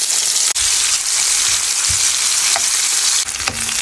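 Rohu fish frying in hot oil with green chillies, coriander leaves and tomato, a steady loud sizzle running throughout with a few brief clicks and stirs.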